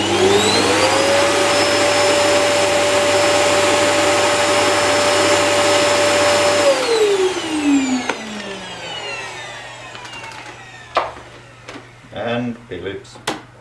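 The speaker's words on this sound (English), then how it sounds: "Electrolux Ultraflex sounds like majority of new vacuums." An Electrolux Ultraflex vacuum cleaner runs with a steady, loud whine for several seconds, then switches off and winds down, leaving scattered handling clicks and knocks.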